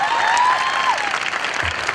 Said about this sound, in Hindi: सबसे पहले तो ताली बजाओ अपने अपने लिए,